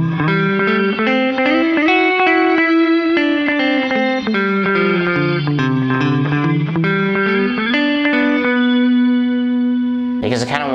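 Electric guitar through a Horizon Devices Flux Echo pedal with its delay and reverb turned down, a clear melodic line of picked notes with a light lingering tail, ending on a held note and a sudden bright strum.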